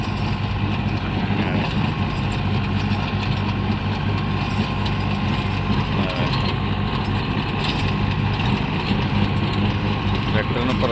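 Tractor pulling a rotavator tilling a field, a loud, steady engine drone with churning mechanical clatter, constant and close throughout.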